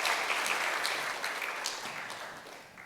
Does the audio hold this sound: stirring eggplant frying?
no